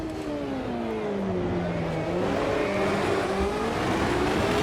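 A McLaren MP4/8 Formula 1 car in the Automobilista 2 racing game accelerating at full throttle, a loud sustained high engine whine rising and shifting pitch through gears, steady and close with no talking.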